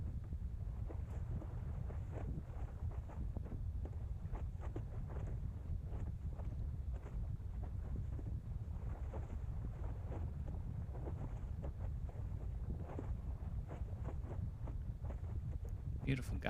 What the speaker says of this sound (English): Beautiful gust hitting me just now.